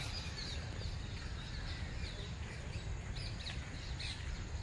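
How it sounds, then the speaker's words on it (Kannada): Steady outdoor ambience in Lalbagh garden's rose garden filled with faint, scattered high-pitched parrot calls and chirps, continuous throughout with no talking. "ಗಿಳಿಗಳು ತುಂಬ ಇದ್ದಾವೆ ಅಂತ ಅನಿಸುತ್ತೆ ಇಲ್ಲಿ."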